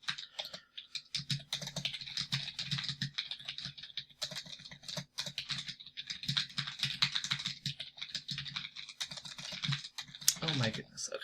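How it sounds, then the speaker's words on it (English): Steady rapid clicking of keys on a computer keyboard, close and fairly continuous with brief pauses, with a voice talking underneath. "you're going to hear me click-clack with the typing"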